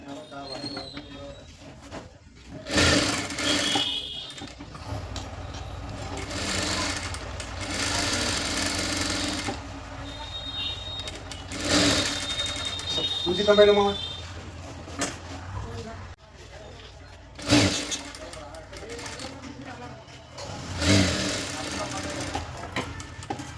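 Sewing machine stitching the front part of a lined blouse, running in several bursts of rapid whirring with pauses between them, with a voice talking throughout.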